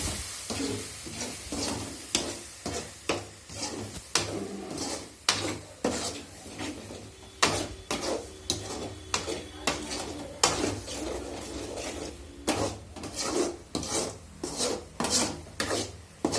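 Chicken masala sautéing in a pan, a ladle scraping and stirring in repeated rhythmic strokes, close and fairly loud rasps and clinks over a faint sizzle, with no talk.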